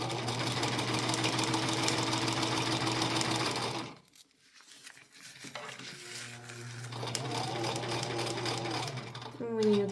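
A sewing machine runs steadily while stitching jersey fabric on a cloth diaper, stops abruptly partway through, then starts again more softly. A person's voice is heard over it.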